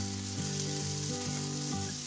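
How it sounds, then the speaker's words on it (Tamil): Steady sizzling and frying of mint and coriander leaves in a hot pan, continuous and close, with a faint low hum underneath and no talking. "நறுக்கி வச்சிருக்க கொத்தமல்லி புதினாவை சேர்த்து வதக்க போறோம்"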